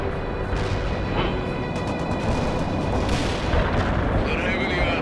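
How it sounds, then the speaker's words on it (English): Anti-tank strike explosions in the video game World in Conflict, a dense, continuous roar of booming blasts and gunfire rumbling throughout, loud and steady, with a voice speaking over the battle. "Anti-tank strike inbound."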